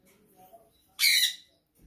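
A pet talking parrot gives one loud, harsh squawk lasting about a quarter second, close by, after quiet village room sounds, with a faint low thump near the end.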